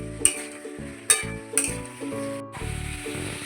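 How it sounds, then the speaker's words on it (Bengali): Black cumin and green chili paste sizzling in a pan, with a few sharp metallic clinks and scrapes as it is stirred, fairly quiet and close. "কালো জিরা কাঁচা লঙ্কা বেটে দিয়ে দিলাম, দিয়ে নাড়াচাড়া করব।"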